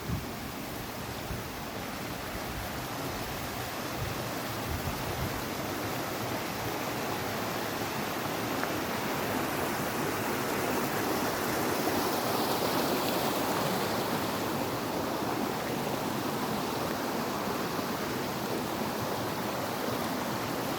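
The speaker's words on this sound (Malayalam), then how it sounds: "അരുവിയുടെ സ്വരം കേൾക്കാം അല്ലേ?" A riverside stream flows near Kakopetria village in Cyprus, giving a steady, broad rushing wash of water that holds constant throughout with no speech.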